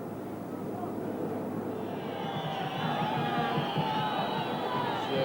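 Crowd at a football stadium in Cordoba during a 1987 Copa America semi-final, a broad, continuous roar of many voices with rising cheers and whistles partway through, and commentary talk over it.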